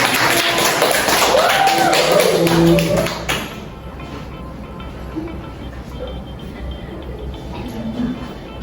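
Students in a high-school biology class clapping in a short, dense burst that stops abruptly, leaving quiet room sound with faint movement afterward.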